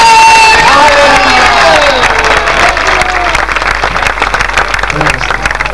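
Loud crowd applause and cheering fill a large gathering at a religious revival crusade, sustained clapping with some shouts and whoops throughout, a voice occasionally audible over the noise.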